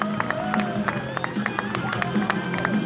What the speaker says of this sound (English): Come on, let's have this applause, we need it.